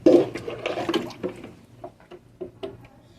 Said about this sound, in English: Sorry, let's water this